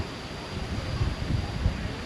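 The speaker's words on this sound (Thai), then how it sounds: "สุดยอดเลยลม" Strong wind gusting across an outdoor house-building site where a porch is being set up, a loud broadband roar that swells and buffets the microphone throughout.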